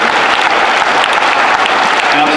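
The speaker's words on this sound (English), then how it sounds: "can we please give them both a round of applause?" Dense, steady audience applause at a Veterans Day convocation, honoring a band and choir, fills the whole stretch loudly and evenly, like a large crowd clapping together in a hall.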